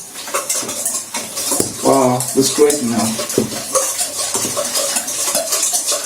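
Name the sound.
mixing eggs and melted butter in a bowl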